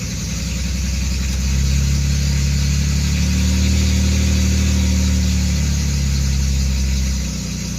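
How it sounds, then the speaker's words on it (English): A misfiring 2.8 V6 in a 1989 Chevrolet Celebrity runs loud and close, with a rough, uneven engine note that swells briefly mid-run before easing back. "There goes the misfire again."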